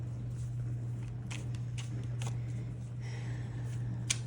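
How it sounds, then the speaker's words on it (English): Soft papery riffles and flicks of tarot cards being shuffled, repeated in quick bursts over a steady low electrical hum, no voices. "Just a few more shuffles."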